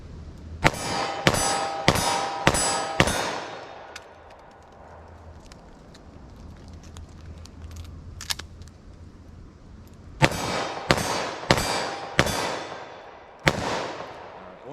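Five rapid, loud .357 Magnum shots from a snub-nose revolver with Speer Gold Dot short-barrel ammunition, then a pause, then five more sharp shots and a final one, each cracking near with a ringing tail.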